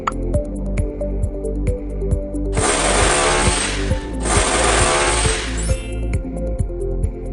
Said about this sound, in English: Now make a small hole with drill machine halfway up on one side of the bottle.